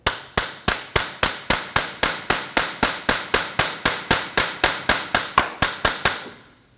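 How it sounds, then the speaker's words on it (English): Hammer tapping the bearing of a CV axle on a 2013-2019 Ford Escape 1.5L L4, about twenty evenly spaced sharp metallic strikes in a steady fast rhythm, close and loud, then a ringing fade. "To remove your axle, tap it with the hammer right on the bearing where you remove that bracket"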